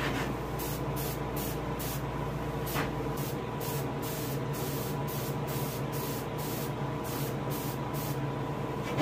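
Airbrush sprays paint onto a largemouth bass being finished for taxidermy, a steady close hiss of air broken by a rapid series of short on-off bursts.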